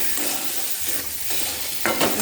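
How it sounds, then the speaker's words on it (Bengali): Potatoes, fish, spices and a whole cardamom pod sauté together in a pan, giving a continuous close sizzle with repeated spatula scrapes and a louder stir near the end, no voices. "একসাথে কষিয়ে নেব।"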